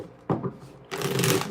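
Cards riffle-shuffled twice: a brief crisp burst, a pause, then a longer, louder fluttering riffle, close and clear with no talk.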